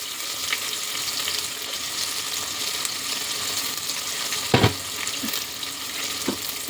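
Garlic and onion fry in a pan over a medium flame, giving a steady, even hiss with a couple of brief utensil knocks near the end.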